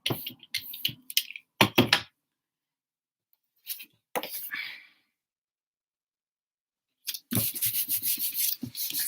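Paper being rubbed firmly onto a gel press plate inked with alcohol inks, several short close scratchy rubbing strokes in bursts separated by quiet pauses, ending with a longer run of rhythmic rubbing.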